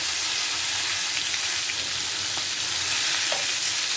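Chicken pieces fry in a pan with a loud, dense, continuous sizzle and crackle and a few faint clinks, and no one speaks.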